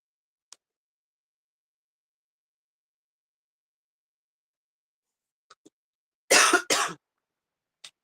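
A single close, harsh cough in two quick bursts after long near-silence, with a few faint ticks around it.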